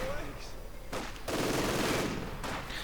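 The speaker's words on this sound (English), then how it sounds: "Grenadiers are continuing to fight despite being blasted out by the snipers" Sniper gunfire and battle noise in the video game Company of Heroes 2, a dense continuous roar of shots and explosions with sudden louder bursts, heard under faint commentary.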